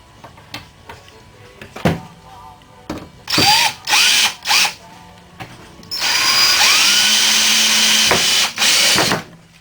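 A power drill drives screws into a ready-to-assemble wooden Adirondack chair, with several short whirring bursts followed by a longer sustained run, close and loud, amid scattered knocks and handling noises.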